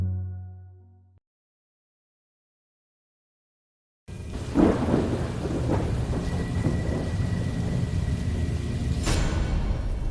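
A night thunderstorm with heavy rain starts after a brief silence, a dense, steady hiss of falling rain with low rumbling thunder and a sharp crack near the end.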